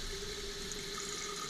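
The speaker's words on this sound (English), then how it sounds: "running water problem in my toilet tank." Water runs continuously in a toilet tank with a faulty fill valve, making a steady hiss with a faint tonal whine and no voices.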